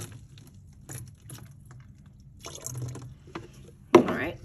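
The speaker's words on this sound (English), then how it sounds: "You pour it in, try not to spill any" Water poured from a pitcher into a bottle, soft trickling and filling bursts that come and go, ending in a sharper splash near the end, with no one speaking.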